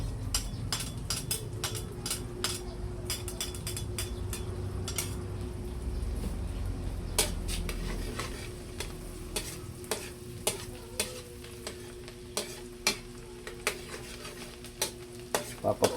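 Garlic sizzles and fries in butter in a pan for a shrimp and squid dish, a steady close sizzle broken by frequent sharp clinks and stirring scrapes of a utensil against the pan.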